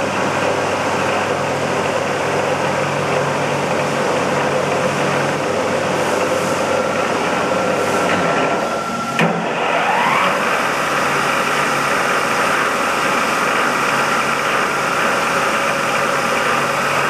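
A Komo Butler horizontal boring mill runs with a steady, loud mechanical hum and whine, holding an even tone close by, with a brief clunk partway through and a slight pitch shift afterward; no voices.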